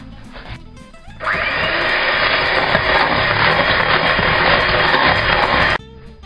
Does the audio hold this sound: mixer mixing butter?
yes